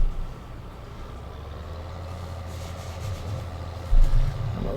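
A heavy farm vehicle in a farming simulator game rumbles steadily at a low idle-like drone, with a brief louder thump and engine swell near the end; no talking.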